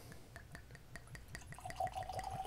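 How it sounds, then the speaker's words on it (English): JT Meleck rice whiskey pours from the bottle into a glass, a faint, close gurgle of repeated glugs that settles into a steady trickle. "Get a good, healthy pour."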